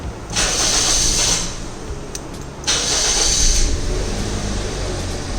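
A Baleno car fitted with a Toyota Axio engine starting up: two strong, hissing bursts of cranking and engine noise separated by a brief dip, heard close by.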